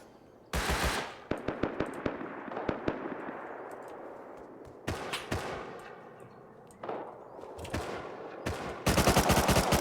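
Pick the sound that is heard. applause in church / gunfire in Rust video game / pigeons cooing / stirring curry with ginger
gunfire in Rust video game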